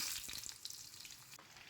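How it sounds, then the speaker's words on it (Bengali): Pointed gourd (potol) pieces sizzle and crackle steadily in hot refined white oil, a close, continuous frying hiss with small pops, and no one speaks. "তেলটা গরম হয়ে গেছে এখন পটলগুলো দিয়ে দিলাম"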